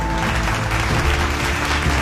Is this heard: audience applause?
yes